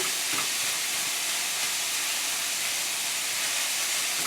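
Pork sausage browning in a pan, a steady close sizzling hiss that holds evenly throughout without voices.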